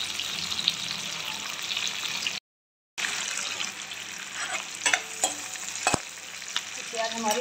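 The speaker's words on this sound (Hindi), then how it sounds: "प्याज हमारी भून रही है।" Onions frying with cumin and asafoetida in a pan, a steady close sizzle with scraping stirs and occasional clinks, briefly cut out midway.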